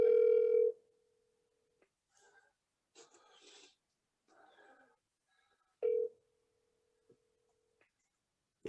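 A telephone rings on an outgoing call to a workplace: two separate buzzy ring tones with long silent gaps between them, plus faint clicks and soft line noise in the pauses.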